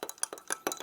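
A spoon stirs black powder into black tea in a glass, making quick, light clinks against the glass in an irregular rhythm, close but faint and very short.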